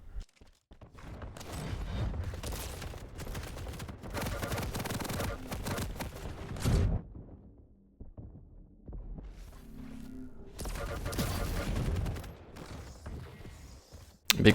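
Shotgun fire and combat in a competitive video game match, heavy booming bursts in long rolling stretches separated by quieter gaps, ending with an abrupt loud hit.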